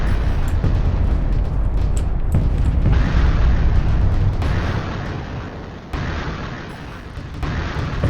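An MRS rocket turret firing in a video game, a barrage of deep booming rocket launches and explosions layered into a dense continuous roar, with sharper bursts breaking in around three and six seconds.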